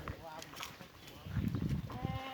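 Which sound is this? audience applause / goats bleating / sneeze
goats bleating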